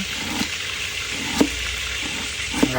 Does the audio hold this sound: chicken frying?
yes